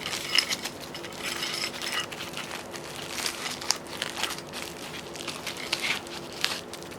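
Cellophane packaging around a parcel from China crinkles and crackles as it is opened by hand, a quiet, close series of irregular rustles and small snaps over several seconds.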